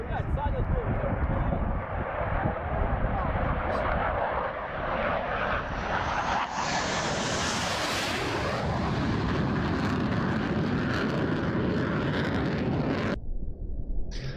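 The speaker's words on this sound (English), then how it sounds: "A New Jersey UFO military jet chases mysterious drone in orb in shocking footage" A military jet roars loudly overhead in New Jersey, a continuous broadband engine rush that swells and shifts in pitch as it passes, then cuts off abruptly near the end.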